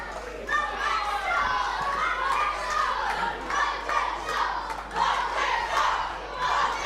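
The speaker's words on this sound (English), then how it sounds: "Well, listen to the crowd." Loud, continuous shouting and chanting from a pro wrestling crowd, many voices overlapping in a rough rhythmic roar that holds steady throughout.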